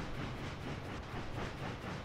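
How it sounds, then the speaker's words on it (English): A train runs along its rails with a steady, muffled rumble and hiss that continues without a break, and no voices can be heard. "The train stops in the station, just like before."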